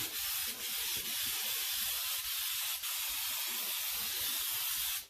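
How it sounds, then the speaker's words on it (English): A long, continuous hiss of an aerosol baking spray can coating a bundt pan at close range, with a few brief pulses as the spray shifts. "I'm going to spray my bundt cake pan down"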